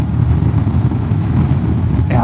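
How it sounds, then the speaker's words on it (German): A Honda X-ADV 750 scooter pulls away under acceleration, its engine a steady, loud low drone that holds level for about two seconds. "Ja, das zieht natürlich schon sehr gut los für einen Scooter"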